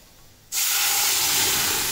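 A hot tempering of green moong is poured into the pot and bursts into a loud, sudden sizzle that holds as a steady, close hiss.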